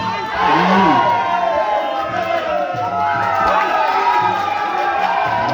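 A crowd of supporters at a Thai boxing match cheers and shouts continuously, with loud overlapping voices and excited calls swelling throughout.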